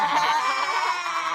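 Goats let out a loud, close, drawn-out bleat lasting about a second and a half, with no voices.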